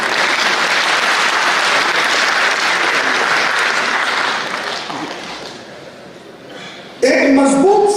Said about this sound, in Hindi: जो समझ गए उन्होंने ताली भी बजा।